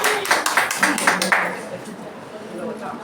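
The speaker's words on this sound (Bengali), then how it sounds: "জোরে হাততালি।" Applause for an honoree at a Women's Day felicitation: a lively burst of clapping from a small group that fades after a second or two, with voices murmuring around it.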